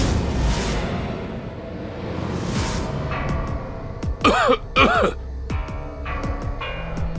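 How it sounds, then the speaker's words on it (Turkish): A man coughs twice in quick, harsh bursts over a busy background of voices and room noise, followed by a few fainter catches. "Patron o yüzden öksürüyor."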